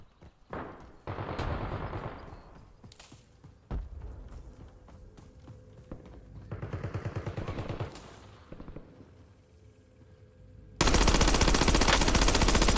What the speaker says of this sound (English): recoil on this gun's terrible.